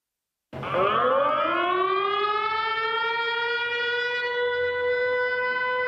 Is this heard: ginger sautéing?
no